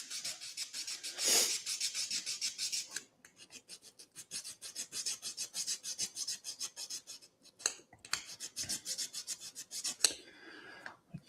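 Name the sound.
sanding off excess from a ROKR model kit part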